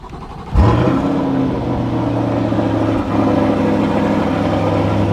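A 2022 Chevrolet Corvette C8 convertible, R Edition, starts up with a sharp cranking burst, then settles into a loud, steady, deep idle rumble, heard close with no talking.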